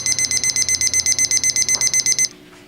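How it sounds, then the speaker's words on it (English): Beside a smoker holding beef brisket, an electronic buzzer alarm sounds a fast, even string of about fifteen sharp beeps, then cuts off into quiet background noise. "Oh, our buzzer's going off."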